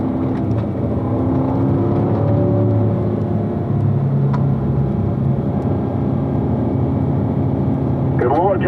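Race car engine accelerating on the Spring Mountain circuit during a Level 2 driving run: a continuous loud whining engine drone with shifting pitch, with a voice speaking over it at times.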